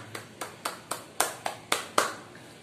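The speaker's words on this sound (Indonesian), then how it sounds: "Tepuk tangan semuanya." Eight sharp hand claps in an even rhythm, close and distinct, with no voices.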